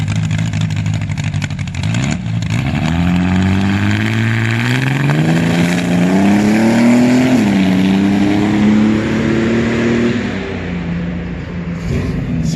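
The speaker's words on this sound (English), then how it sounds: "that green car that backfired next to my face" A green drag race car at a bracket-racing track revs hard with a rising, wavering engine pitch, sharp pops and bangs cracking out early on, loud and near, before the engine note settles and fades.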